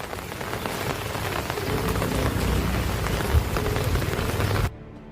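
Heavy monsoon rain pours steadily in Valsad, Gujarat, a dense continuous hiss of drops on surfaces that holds loud and even before cutting off abruptly near the end.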